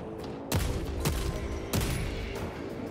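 Three loud bursts of gunfire from a heavy weapon in Warhammer 40k Space Marine 2, each a sharp blast with a rumbling tail, spaced about half a second to a second apart over constant battle noise.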